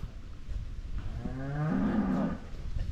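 A cow at a village butchering for a funeral feast in Fiji gives one long, low moo that rises slightly in pitch, heard outdoors over steady background noise.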